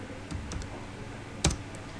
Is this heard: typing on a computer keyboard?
yes